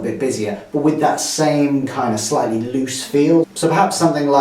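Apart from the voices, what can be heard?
No distinct noise like a dog, phone or traffic.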